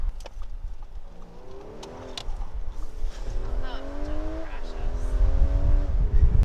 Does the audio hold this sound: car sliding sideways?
yes